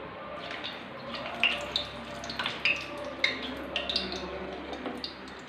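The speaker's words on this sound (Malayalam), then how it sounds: "നമുക്ക് എണ്ണയ്ക്കകത്തേക്ക് ഇടാം" Urad dal vada batter frying in hot palm oil gives a close, steady hiss broken by sharp crackles and pops.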